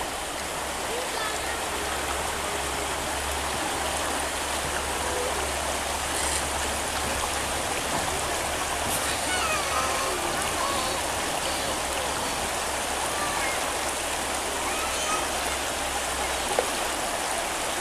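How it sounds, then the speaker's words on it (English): Rocky creek in the Smoky Mountains of Tennessee rushing steadily, a constant close broadband roar of flowing water over stones with no break, lasting the whole stretch. "Here's in the creek. Well, it's a rocky place"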